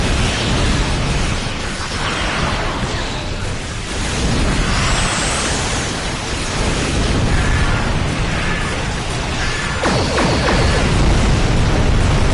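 Explosions from a Star Trek Online space battle, a dense, loud roar of blasts and booms that keeps going without a break for about twelve seconds, with no voices.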